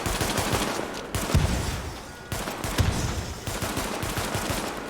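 Pistol shots in The Division on PC, a steady run of sharp reports across the whole stretch with brief gaps between bursts and no talk over them.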